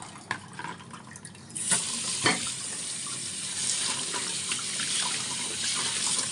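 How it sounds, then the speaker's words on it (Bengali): Rice and lentils for khichuri are rinsed under running water, a continuous close splashing and gushing that swells after a brief softer start, with a sharp clatter partway through. "ভালো করে না ধুইলে এর ভিতরে বালু বালু থাকে সুন্দর করে ধুয়ে নিছি"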